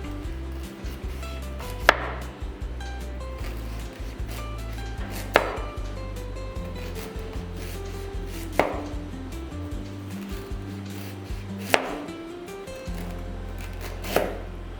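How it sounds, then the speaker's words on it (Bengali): A knife cuts ginger in five sharp, isolated chops spaced about three seconds apart, over a quiet, low, steady background hum. "আদাটাও একটু কেটে নিই"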